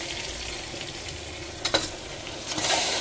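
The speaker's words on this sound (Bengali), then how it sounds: "পেঁয়াজটা দিয়েছি তেলের মধ্যে" Onions frying in hot oil for a mutton curry, a steady close sizzle with a couple of stirring clinks and a brief louder hiss toward the end as mutton goes into the pan.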